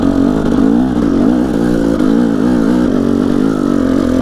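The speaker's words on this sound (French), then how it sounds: "je vais vous montrer qu'en 2 temps, au contraire, tu réfléchis pas trop, tu montes tranquillement, tu mets une vitesse au-dessus" A two-stroke enduro motorcycle climbs slowly up a rocky trail, its engine buzzing loud and close at a steady low rev with gentle rises and dips in pitch throughout.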